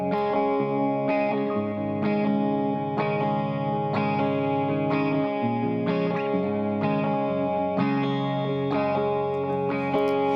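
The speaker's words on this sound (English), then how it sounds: "Electric guitar 1 sounds like this." An electric guitar with a nasal, effected tone, likely part of a cover, plays steady sustained chords with rhythmic strums, dense and heavily processed, with no talking.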